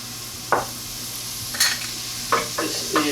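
Diced onion and celery saute in a pot over a low steady sizzle, broken by several sharp scraping stirs of a utensil against the pot.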